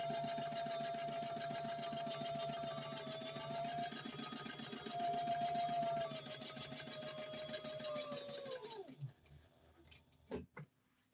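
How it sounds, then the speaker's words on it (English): A sewing machine stitches fabric for a roll-up organizer bag with a fast, steady mechanical whir and needle clatter up close, then winds down and stops, leaving a few scattered clicks and handling noises. "I'm not doing a lock stitch on the ends here"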